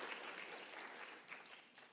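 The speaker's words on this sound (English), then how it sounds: "Please feel free to clap." An audience at a health-systems discussion claps steadily, a broad even patter of many hands at moderate distance that continues for the whole short stretch without talk.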